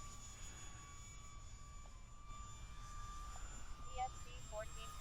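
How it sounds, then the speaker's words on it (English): UMX F-86 Sabre 30mm electric ducted fan RC jet making a low pass, a steady high whine that holds at a moderate distance over a constant outdoor noise bed. "Fast little plane."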